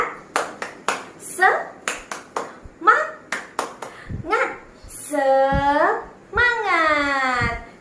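Children in a fifth-grade class clap out a rhythmic "tepuk semangat" pattern, a quick sequence of sharp claps mixed with chanted voices and a teacher speaking, followed by drawn-out vocal calls, close and lively.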